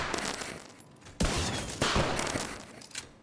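Loud bursts of rapid gunfire in a video game, one volley at about a second in and another shortly after, each trailing off under steady background game noise.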